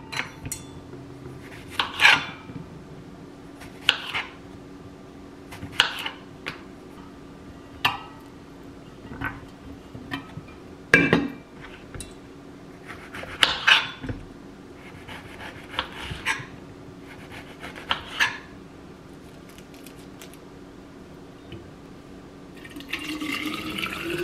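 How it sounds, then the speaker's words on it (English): Kitchen sounds while ice water is made: scattered glass clinks and knocks of ice, irregular and close, with a longer pour-like stretch and steady room hum underneath. "I'm gonna make some ice water."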